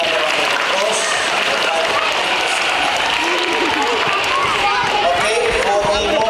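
Applause fills a primary school sports assembly, a loud continuous wash of clapping from many children, mixed with crowd noise and some voices throughout.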